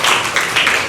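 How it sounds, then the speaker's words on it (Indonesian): Brief burst of classroom clapping for a student group at a senior high school mathematics lesson in Bengkulu, loud and close, with a few uneven surges over less than a second. "Tepuk tangan dulu buat kelompoknya"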